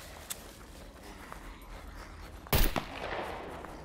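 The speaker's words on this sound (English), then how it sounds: "what is that weird just one shot every once in a while in the distance?" A single distant gunshot in the video game SCUM, one sharp crack cutting through quiet ambient noise, with a faint earlier pop and a lingering tail afterward.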